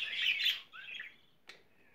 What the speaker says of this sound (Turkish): kanaryam.